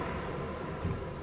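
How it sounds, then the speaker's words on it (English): Steady broadband whir of a home heater running in the background of an indoor room, a constant low hum and airy noise with no talk over it. "Sorry if you hear that noise in the background. It's my heat"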